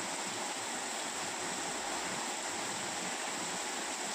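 Heavy rainwater pouring off a roof during a downpour, a dense, steady broadband rush of splashing water that holds constant and loud throughout with no voices.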